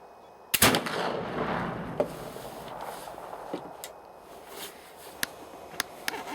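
A Traditions Kentucky flintlock rifle fires a round ball over 2F black powder: one sharp, loud report followed by a rolling boom that fades outdoors, with a few faint clicks and handling sounds afterward.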